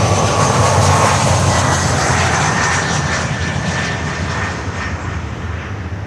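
A jet airliner engine roars at Miami airport, a loud broad rumble and whine that slowly fades as the aircraft moves away, with no voices over it.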